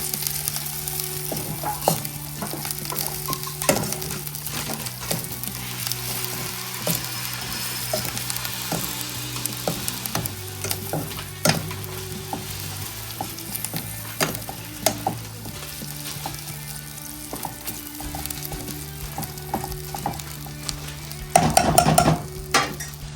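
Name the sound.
prawns frying in a pan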